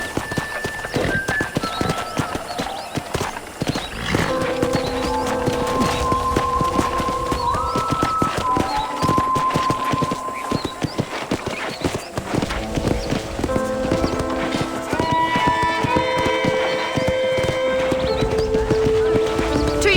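In the Red Dead Redemption ranch scene, a horse clip-clops steadily and close by, its hooves rattling continuously over a musical score, with occasional neighs and whinnies mixed in.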